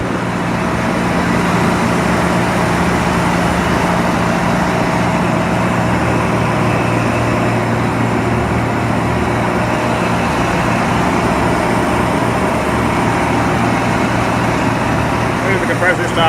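A refrigeration compressor runs steadily at close range as a continuous, loud mechanical drone with a constant low hum, and a voice talks over it.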